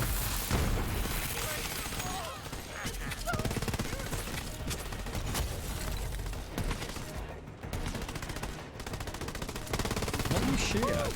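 Sustained automatic gunfire in Borderlands 3, dense rattling bursts with occasional booms that continue almost without pause under loud game noise and voices talking.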